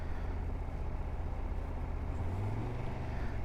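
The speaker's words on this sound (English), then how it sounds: "What's happening with all this traffic?" Road traffic rolls by during a ride, with car and truck engines forming a steady low rumble and one vehicle's drone rising in pitch near the end, moderately loud with no talk.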